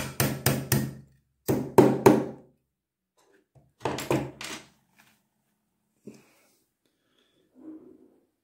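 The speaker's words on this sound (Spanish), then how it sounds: "simplemente con un martillo, en este caso tengo un alicate, comienzan a golpear" Sharp metallic taps of pliers driving a pin out of a gun trigger assembly come in quick bursts of three or four, with pauses between groups and a couple of fainter knocks near the end.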